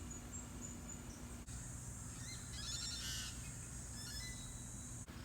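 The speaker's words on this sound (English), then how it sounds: "Hear the birds chirping in the background." Birds chirp in the background at a residence in Subic Bay, Philippines, with a few bright, short call phrases over a steady low hum of ambient noise, moderately distant and fairly faint.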